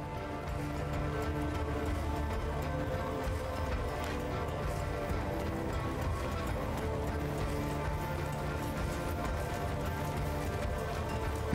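Horse hooves in the medieval combat game Mount & Blade II: Bannerlord, a steady galloping clip-clop that runs continuously and loud beneath a dense layer of battle noise.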